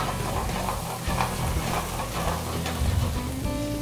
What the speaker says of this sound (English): That's what you call sauteing.